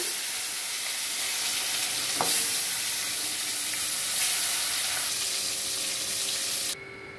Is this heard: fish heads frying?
yes